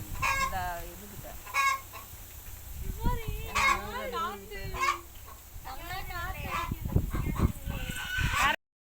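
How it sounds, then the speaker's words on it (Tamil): A hen in a village clucks loudly and repeatedly, with rooster-like squawks and honking calls close by, while people talk over the noise. "நாங்கள் வந்ததுலேருந்தே இந்த கோழி பயங்கரமாக கத்திக்கிட்டே இருந்துச்சு"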